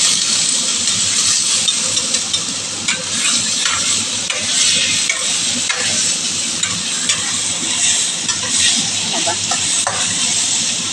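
Chicken sautéing in a pan for adobong manok, a steady loud sizzle and frying hiss running throughout with occasional stirring clatter and a faint voice in the background.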